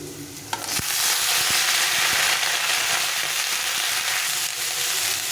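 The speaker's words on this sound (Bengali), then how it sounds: "এখন আমি বাকি সবজিগুলো সব দিয়ে দেবো একবারে দিয়ে দেবো" Vegetables tipped into hot oil over lightly fried potato for a thin vegetable and fish curry, giving a loud, steady broadband sizzle that starts abruptly and keeps crackling evenly to the end.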